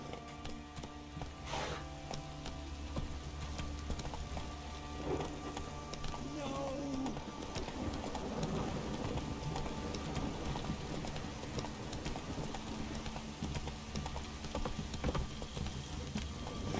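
Horse hooves gallop in The Witcher 3 as the horse Roach runs, a steady rolling clip-clop over game music and ambience, with a voice urging it on at the start.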